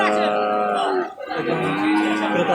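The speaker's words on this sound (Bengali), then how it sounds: "দেখতেছেন আপনার গরুটা? দেখেন দেখেন" A cow lows loudly and close by at a large cattle market where heifer calves are sold, a long drawn-out moo with a brief break partway through, against faint background bustle.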